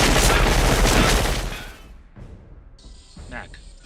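A team opens fire on a creature in a film: a dense burst of rapid, loud gunshots for about two seconds, then quieter echoing thuds and a brief high tone, with a voice speaking over it.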